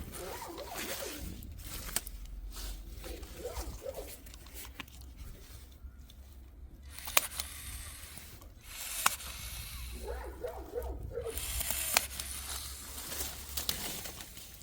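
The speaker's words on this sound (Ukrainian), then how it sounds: "Ось це я теж під землю зріжу." Raspberry canes of an everbearing variety being cut off at ground level in a garden, giving scattered dry snipping and rustling sounds with a few sharp clicks, fairly close and moderately quiet, with no talking.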